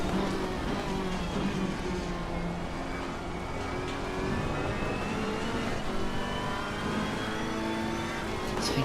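Race cars in Assetto Corsa Competizione accelerating down a straight at Zolder, with a steady, continuous engine drone and rising gear-pitch tones that hold loud and close for the whole stretch without any talk.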